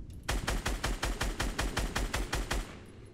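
Rapid automatic gunfire in Fortnite, a burst of about a dozen evenly spaced loud shots at a fast rhythm, close and clear, stopping abruptly with no talking.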